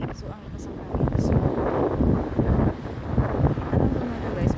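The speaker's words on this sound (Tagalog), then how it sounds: "ang lakas ng hangin" Strong wind buffets the microphone in heavy rumbling gusts, loud and close, with a voice faintly audible beneath the roar.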